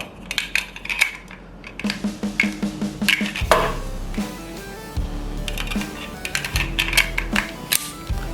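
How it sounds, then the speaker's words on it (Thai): Metallic clicks and clacks as a magazine is handled and seated into a Rock Island Armory M1911 A1 GI Standard full-size pistol, a run of sharp close clinks with ringing metal tones. "ใส่แมกกาซีนเข้ามาแล้วนะครับ ใส่แม็กไปแล้ว"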